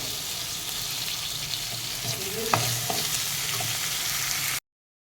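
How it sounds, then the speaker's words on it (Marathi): Tomatoes and red chili powder sauté in a pan for a healthy jowar khichdi, giving a steady, close sizzle with stirring scrapes throughout before cutting off abruptly near the end. "याच्यामध्ये टॉमॅटो आणि एक लाल तिखट घालायचं आहे आणि परत हे एखाद दोन मिनटं आपल्याला परतून घ्यायचं आहे"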